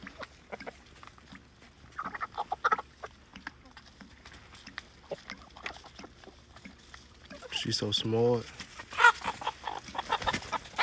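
Farm chickens and a rooster cluck in short bursts around a yard while someone talks over them, with a louder squawking flurry near the end.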